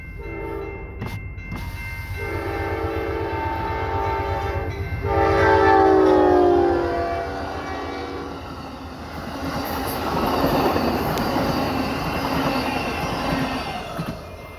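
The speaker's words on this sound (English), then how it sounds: "There goes Amtrak." An Amtrak passenger train passes at 65 mph, its horn blaring in several long harmonic blasts before the cars rush by with loud rolling wheel noise and a brief squeal.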